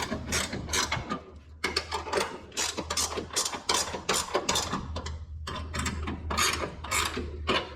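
Tools are tightened on the bolts of an automotive hood alignment tool, giving a close, steady run of ratcheting clicks in quick bursts with short pauses and no talking.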